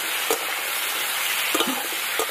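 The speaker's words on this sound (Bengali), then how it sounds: "টমেটোটা দিয়ে আর 1 মিনিট মতো একটু নাড়াচাড়া করে নেবো।" Tomatoes and potatoes frying in a pan with steady broadband sizzle, broken by a few sharp scrapes as they are stirred; close and fairly quiet, no voices.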